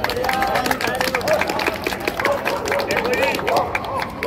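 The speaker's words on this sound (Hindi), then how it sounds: "ताली बजा दो।" Children clap during Ramlila rehearsal, a rapid patter of many small hands, steady and close, mixed with voices and crowd chatter.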